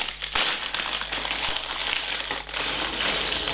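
Plastic Lego parts bag for a Millennium Falcon set crinkling as it is torn open, a steady close rustle with a few sharper crackles throughout.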